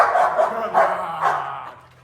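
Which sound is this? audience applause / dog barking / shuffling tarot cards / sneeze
dog barking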